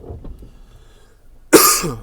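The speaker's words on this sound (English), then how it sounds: "Just coughed." After faint murmuring, a single loud, harsh cough bursts out close to the microphone.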